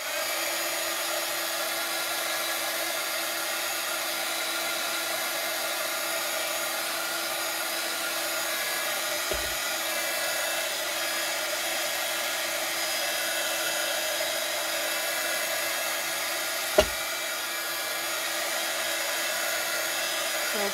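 A hand-held dryer blowing steady air over gesso painted on a glass jar during a craft project, a constant close whirring hum with a couple of brief clicks and no talking.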